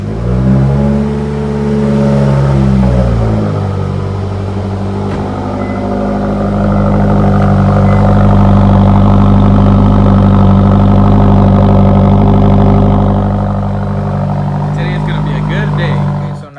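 A Subaru WRX with a CVT fires up and settles into a steady, loud engine drone that rises and holds as it revs, running continuously throughout with faint voices underneath.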